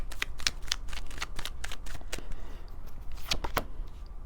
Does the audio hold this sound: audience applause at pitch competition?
no